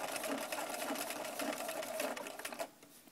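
Close, steady rapid whirring of a sewing machine stitching binding onto a quilt, running continuously before slowing and fading toward the end.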